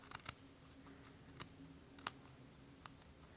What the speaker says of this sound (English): I'm just going to cut it off the sheet. And then I'm going to cut straight down the middle.